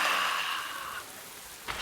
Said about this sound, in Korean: 하늘에서 소나기가 내리는 거예요.